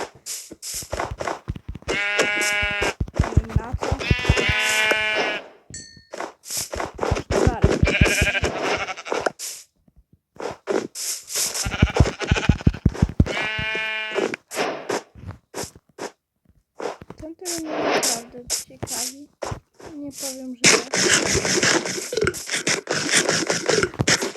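Several sheep bleat in bursts in a video game, nearby and fairly loud, mixed with scraping and shuffling noises between the calls.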